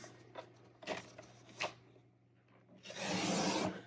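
A Fiskars paper trimmer with a wire guide slices paper in a few quick scraping strokes, ending in a louder, longer rasping pass; nearby and fairly quiet, with no talking.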